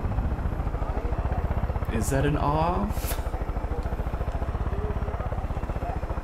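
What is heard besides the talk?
helicopter flying in the video game Far Cry 5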